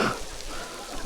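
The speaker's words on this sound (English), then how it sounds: "The fucking raindrop." Raindrops pattering on a hiking trail near Kaaterskill Falls in the Catskills, New York: a steady, close hiss of rain across a brief moment, with a slightly louder burst at the very start and no clear talk over it.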